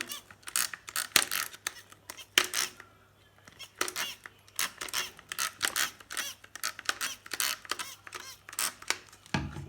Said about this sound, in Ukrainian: Беру наш засіб, пшикаю.